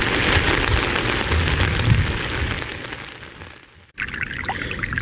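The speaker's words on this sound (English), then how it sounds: "But tonight, it's raining." Heavy rain falls at night in a dense, continuous hiss, briefly fading almost to nothing before returning just as steady.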